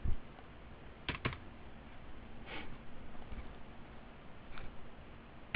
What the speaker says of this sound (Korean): 제가 세 글자까지 쳐볼게요